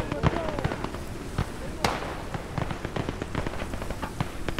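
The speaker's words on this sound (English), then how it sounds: "I hear gunshots." Gunfire in the World War II game Call to Arms – Gates of Hell: Festung Europa, scattered shots cracking irregularly at a moderate distance, one sharper report standing out among the sporadic pops.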